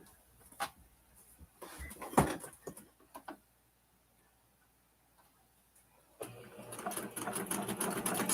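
Home sewing machine stitching in short ticking runs, then a steadier, louder hum of continuous sewing toward the end after a quiet pause, close by with no talk.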